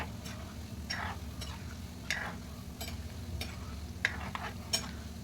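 Gulab jamun balls frying in a pan of oil over a low flame, giving a soft, steady bubbling sizzle with occasional light clicks from a ladle stirring them.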